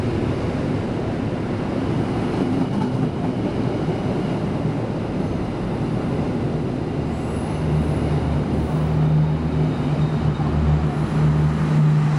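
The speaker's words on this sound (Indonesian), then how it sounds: "yang baru saja melintas adalah kereta api Argo Sindoro tambahan dari stasiun Semarang Tawang tujuan akhir stasiun Jakarta Gambir" Argo Sindoro passenger train passing through Bekasi station, a loud continuous roar of rolling wheels and carriages with rail squeal rising toward the end, heard close from the platform.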